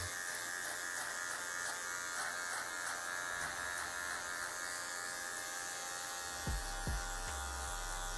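Electric hair clippers buzz steadily during a skin fade haircut at a barbershop, a close, continuous motor hum that runs throughout, with a few brief knocks and handling sounds near the end.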